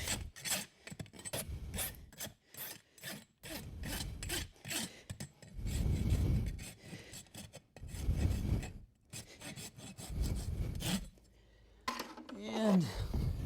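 A clinching rasp files horseshoe nail ends flush against a hoof wall, a series of close, scratchy strokes in an uneven rhythm, with brief pauses between passes and a clink near the end.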